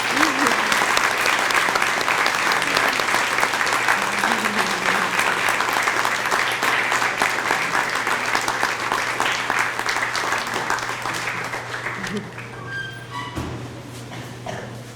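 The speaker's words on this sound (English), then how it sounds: "And let's give them a round of applause." Steady, loud audience applause at a middle school grade 8 awards and promotion ceremony, sustained for most of the stretch and tapering slightly near the end, with a faint low hum beneath.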